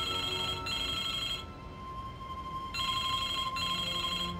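A telephone rings in the Broken Sword II point-and-click adventure game: two bursts of bright electronic trilling separated by a pause, loud and close over a faint background hum.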